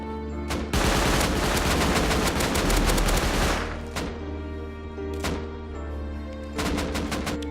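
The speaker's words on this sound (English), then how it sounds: "The custom SMG shreds any target in close range without a sweat." Custom SMG firing in the video game Rust: a dense, continuous burst of rapid automatic gunfire for about three seconds, followed by several shorter separate bursts, loud and close with no talking.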